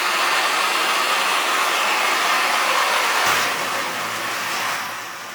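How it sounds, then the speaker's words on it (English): A MAP gas torch melting gold in a melt dish gives a loud, steady roaring hiss close by. Partway through, the tone shifts and the roar eases slightly toward the end. "Now we're going to go ahead and melt these with a MAP gas torch."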